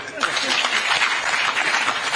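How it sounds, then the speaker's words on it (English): Audience applause for a guest at a provincial gathering in Muchinga Province: dense, steady clapping from a crowd, fairly close and continuous throughout, with some voices mixed in. "let's clap for Banyirende"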